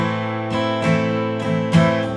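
Guitar chords strummed in steady succession, each ringing out with rich sustained harmonics before the next strum at roughly even intervals, close and clear with no talking.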